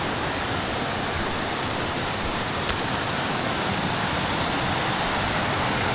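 Water rushes steadily over a clear, cold stream in Puntalinao, Banay-Banay, Davao Oriental, a dense broadband hiss that stays even and close throughout with no voices.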